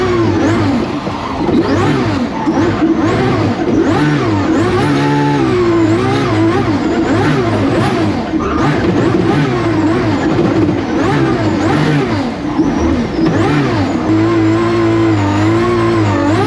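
Twin-turbo V12 Ferrari engine revving hard and loud throughout, pitch climbing and falling in quick repeated sweeps as it winds up through the gears, close and continuous with no talk over it.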